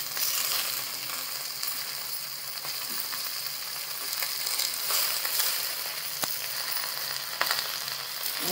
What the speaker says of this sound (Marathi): छानपैकी कांदा नरम झाला आता याच्यामध्ये भाजी टाकून द्यायची